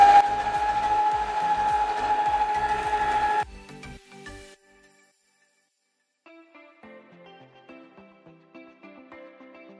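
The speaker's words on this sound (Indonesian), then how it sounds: "Lalu kita mixer dengan kecepatan rendah hingga tercampur rata." A stand mixer runs at low speed through croffle dough with instant yeast and icing sugar, a steady loud whir for a few seconds before it stops, then quieter clinks and taps of kitchen utensils follow.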